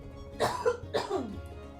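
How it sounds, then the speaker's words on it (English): Two harsh, close coughs from a person with a lingering cough, the second following about half a second after the first, with quiet room tone around them. "I'm still coughing"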